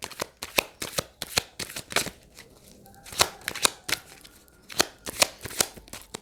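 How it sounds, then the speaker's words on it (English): Tarot cards are shuffled in quick bursts of crisp riffling snaps, close and fairly loud, with a short pause midway before the rapid shuffling resumes. "Let's pull a card on that Six of Pentacles."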